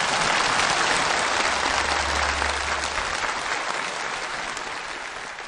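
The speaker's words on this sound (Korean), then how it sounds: "양팀 선수들에게 다시 한번 열광적인 박수를 보내줍시다" A large audience claps enthusiastically for the players of both teams after a football match, a dense, steady wash of applause that eases off slightly toward the end.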